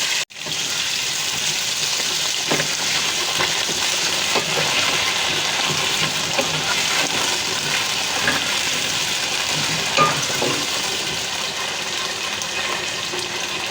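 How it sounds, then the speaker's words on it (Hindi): Cut potatoes frying with cumin in a pan as they are stirred in, a loud, continuous close sizzle with occasional scrapes of the spoon, no voices. "आलू डाल देंगे इसको अच्छी तरीके से आलूओं को मिक्स करेंगे"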